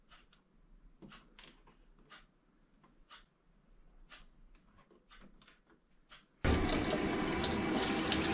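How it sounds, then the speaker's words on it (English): Hot water from a household tap, running after a boiler repair, bursts on suddenly and gushes loud and steady into a sink, following quiet ticking and light clinks. "Hot water. Yes, it's working."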